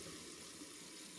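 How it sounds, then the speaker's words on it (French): Water from a kitchen tap pouring into a water bottle, a soft, steady rushing splash heard faintly and alone. "L'eau coule dans la bouteille d'eau."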